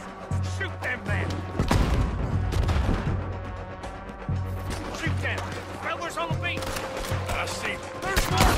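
Gunfire from a beach shootout in the video game Red Dead Redemption 2, with repeated shots and bursts crackling over a steady low rumble and game music, while voices talk throughout.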